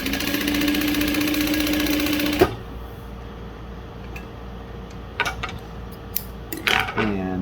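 Juki DU-1181N industrial sewing machine stitching light to medium material, a steady fast mechanical whirr for a couple of seconds that stops abruptly, followed by quiet hum and a few light handling clatters.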